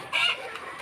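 A young bullstag fighting rooster at a gamefowl farm lets out a single short, loud cluck up close, trailing off into quieter farmyard background.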